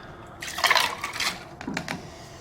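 A short splashing pour of water into a GSI camp cup, close by, rising for about a second, easing off, then a couple of brief gurgling spurts.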